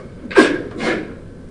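A single close sneeze, a sharp burst followed by a softer trailing exhale, heard alone in a quiet room.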